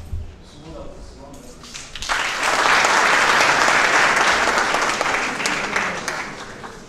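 An audience at a Cameroonian conference bursts into sustained applause for a speaker's introduction, swelling after quiet murmuring and holding loud and dense before easing slightly.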